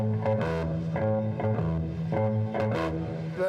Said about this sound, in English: the basic difference is that most bass players sound like this.